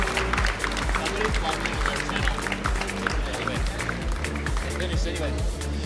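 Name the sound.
crowd applauding the champions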